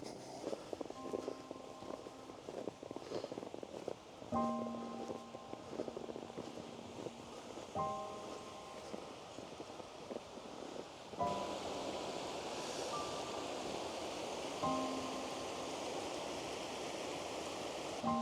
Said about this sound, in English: The creek is right back over here. It's flowing pretty good right now.